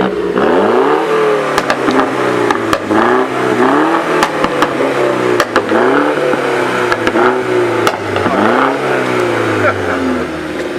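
At a local car meet, a car engine is revved repeatedly up close, loud rising and falling bursts of acceleration in quick succession with crowd noise around.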